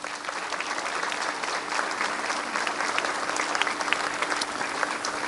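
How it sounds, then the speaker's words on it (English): An audience at a school graduation ceremony claps steadily for several seconds, a dense, even wash of applause from a large crowd in a hall. "Let's give them a round of applause."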